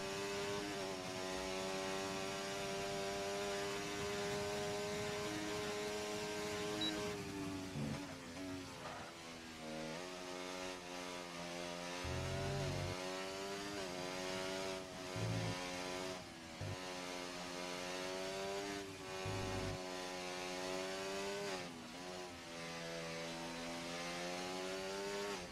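A race car engine in a Japanese Grand Prix racing game revs loud and steady through a qualifying lap, its pitch climbing through the gears and dropping sharply at several upshifts and braking points, with no voices.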